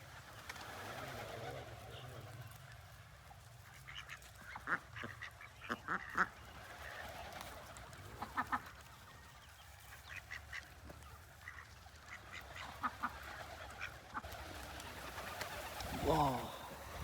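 Poultry on an open farm, with birds pecking at soil and sand, giving scattered short calls and chirps over a steady outdoor background, with a few louder bursts near and some voices.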